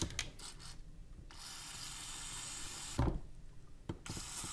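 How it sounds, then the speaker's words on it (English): A small nylon brush scrubs a Harley-Davidson engine induction part with quick rasping strokes and a few sharper scratchy bursts, close and faint. "Maybe try a little nylon brush"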